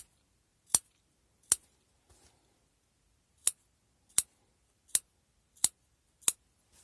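Sharp scissor snips cutting fabric, seven or so in a steady rhythm with a short pause, close up in a quiet room.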